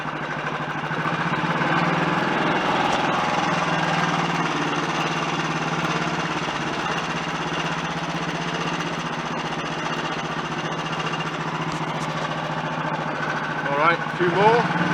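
A Royal Enfield Bullet 350 G2 single-cylinder motorcycle engine runs steadily with a low thudding note, held at raised revs for the whole stretch while someone talks over it.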